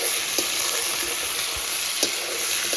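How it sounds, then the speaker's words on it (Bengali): Marinated mutton with chui and four garlic cloves frying in a pan, a constant close sizzle broken by a few soft clinks and scrapes of stirring, with no voices. "এবার এর ভেতরে এতে আগে থেকে ম্যারিনেট করা মাংসটা দিয়ে দেবো, কিছুটা পরিমাণ চুই, 4টে রসুন দিয়ে এবার সব কিছু ভালো করে কষিয়ে নেব"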